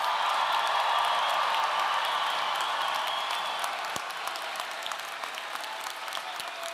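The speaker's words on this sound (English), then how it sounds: "Would the audience please give a final round of applause for the class of 2025?" Graduation audience at Wheaton North High School gives the class of 2025 a final round of applause, a dense, sustained wash of many hands clapping that fills the hall and eases slightly toward the end.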